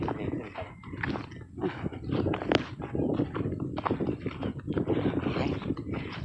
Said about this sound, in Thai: เห็นไหมเสียงลมพัด